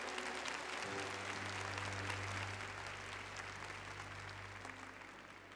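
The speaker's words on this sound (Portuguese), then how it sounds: "Obrigado, aplauda mesmo." Audience applause during a church service, a sustained wash of clapping that slowly fades, with a low held organ or keyboard tone sounding underneath.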